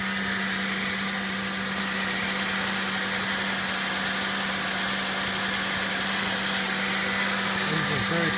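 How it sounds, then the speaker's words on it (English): A 2001 Chevrolet Impala engine runs steadily during an engine and transmission test, a constant mid-pitched idle hum with a firm low drone throughout, close and alone. "This is going to be an engine and transmission test."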